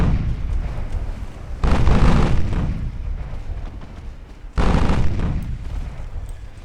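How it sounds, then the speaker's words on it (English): Naval guns in Ultimate Admiral: Dreadnoughts fire high-explosive rounds in two loud, heavy salvos, each a deep booming blast that rumbles away before the next, with no speech over them. "High explosive rounds. Fire at will. All guns."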